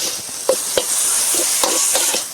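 Chicken giblets with fresh chili stir-fried in a pan over a charcoal stove, a close steady sizzle broken by repeated scraping clacks of the spatula, no talking.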